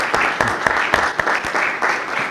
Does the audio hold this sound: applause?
yes